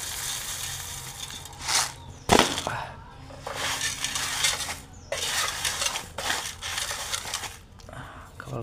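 Dry mixed bird food for pet cockatiels and parrots is poured into a dish in several short rattling bursts, with a sharp clatter of the dish partway through and quiet gaps between pours.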